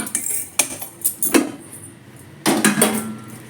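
A metal tube-style puttu steamer vessel being handled in a home kitchen, giving sharp close metallic clanks and clatters in irregular bursts, with quieter scraping between them.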